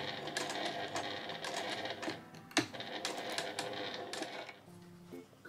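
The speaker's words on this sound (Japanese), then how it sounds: "そしたらここの段のところを縫います。" A sewing machine stitches a small fabric drawstring pouch made of canvas, its rapid mechanical chatter coming in short bursts separated by brief pauses and a sharp click midway, close and fairly quiet.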